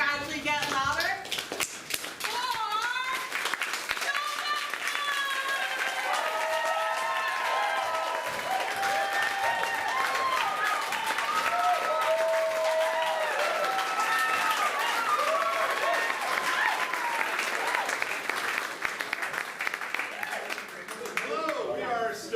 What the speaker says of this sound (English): all we need to get started is a soft clap that we're going to gradually get louder